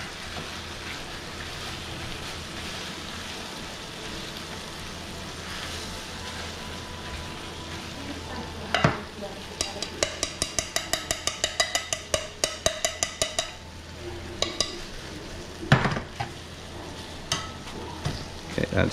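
Bacon frying in a pan that was started cold, a steady soft sizzle and bubbling close by, with a run of sharp, rapid crackles and pops breaking through in the second half.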